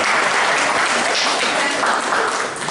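Audience applause at a book launch event, a dense, steady wash of many hands clapping throughout, fairly loud with some murmuring mixed in.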